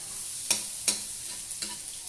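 Garlic sautéing in a pan while it is stirred, a low, steady sizzle broken by a few sharp clinks and scrapes of the utensil against the pan.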